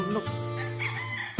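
A rooster crows nearby, one long drawn-out call that rises and holds before trailing off, fairly clear against a quiet background.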